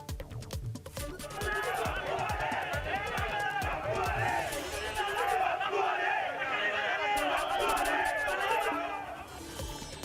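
Crowd of BJP workers cheering and shouting in celebration of a Pune municipal election win, a loud, dense roar of voices and chants that swells after a brief opening and holds steady throughout.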